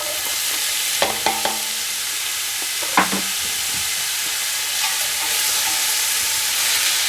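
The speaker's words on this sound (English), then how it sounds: "we'll add in that onion we diced up" Diced onion hits hot olive oil in a pan and sizzles loudly and steadily, with a few clinks and scrapes of a utensil stirring near the start.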